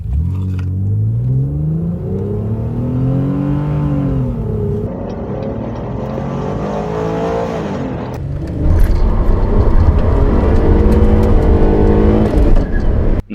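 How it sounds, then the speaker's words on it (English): A 60-degree V6 car engine in BeamNG revs and climbs through its range, shifts, then roars louder and rougher with a deep rumbling growl before cutting off abruptly. "you would want a 60-degree V6, which sounds pretty incredible"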